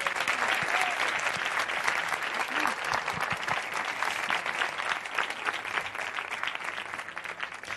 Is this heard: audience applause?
yes